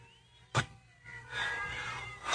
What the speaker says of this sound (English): We are surrounded by hungry cats. Hear them?